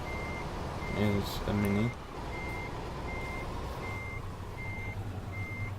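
A Scania truck reverses up to a wall, its backup alarm sounding steady evenly spaced beeps throughout over a low engine idle, with a brief spoken phrase early on.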